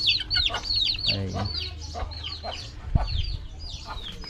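Hens in a chicken coop cluck and chatter busily nearby, their calls overlapping in quick bursts. A person speaks briefly in the background.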